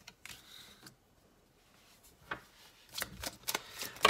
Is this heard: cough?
no